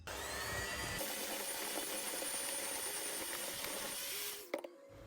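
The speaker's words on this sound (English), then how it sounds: "give it a good mix with the electric whisk" An electric whisk mixing cake batter of egg and flour, a steady faint high-pitched motor whir that runs for about four seconds and then cuts off with a small clatter.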